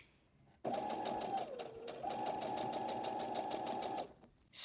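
A sewing machine stitching fabric runs in one steady whir with a fast, even needle rhythm, close and clear, slows briefly partway through, then stops.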